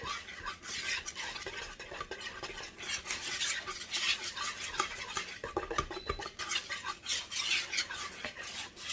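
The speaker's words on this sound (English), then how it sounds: "now I'm going to start whisking the whole cake" Eggs being whisked into cake batter in a bowl, a steady, continuous scraping and tapping that runs close and fairly loud without a break and with no talking.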